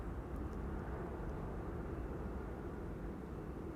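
Airbus A330 airliner departing Amsterdam Schiphol Airport, heard as a steady, distant broadband engine roar that holds at an even level throughout, with no voices.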